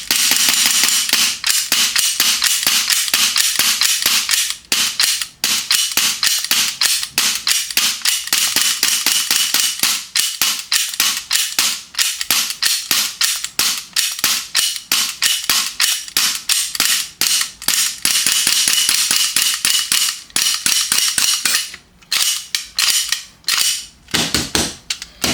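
A GHK Gen 5 Glock airsoft pistol fires dozens of sharp, snappy shots in rapid irregular bursts, loud and close, with brief pauses between strings and no talking.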